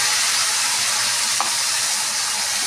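Spices sauté in a pan for a katla fish head curry, giving a loud, even, close sizzle and frying hiss with one brief stir click; no one speaks.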